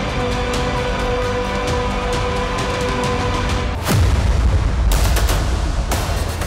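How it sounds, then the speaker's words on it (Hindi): Gunfire on a road during an attack: a steady run of sharp shots, then a heavy burst of louder blasts with rumble, heard outdoors at moderate distance and without talking. "रोड पर फायरिंग हो रही है और लगातार गोलियां दागी जा रही हैं।"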